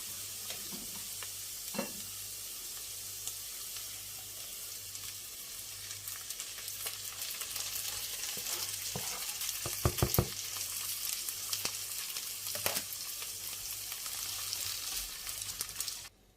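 Chopped tomatoes sizzle and crackle in a hot pan for Turkish menemen, a steady close frying hiss broken by a few sharper pops and stirring scrapes, with no voices.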